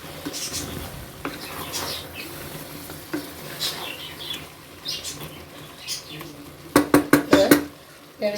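A spoon stirs hot and spicy chicken gravy in a pan, giving scattered scraping strokes and soft sizzles, then a quick burst of rapid scrapes near the end.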